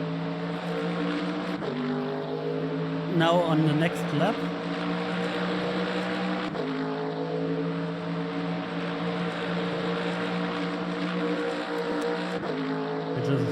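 Mercedes-AMG GT3 V8 engine racing in Le Mans Ultimate at Bahrain Outer, a steady, loud harmonic engine drone with rising pitch through gears and brief drops at shifts, while someone talks over it.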